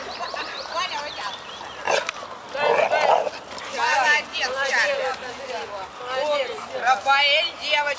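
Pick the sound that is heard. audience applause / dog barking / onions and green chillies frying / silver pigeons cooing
dog barking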